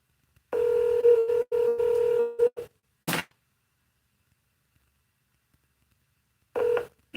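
Automated telephone line tones play during a call transfer to a National Guard office, a steady tone for about two seconds broken by short gaps, a brief burst, then silence before another short tone near the end.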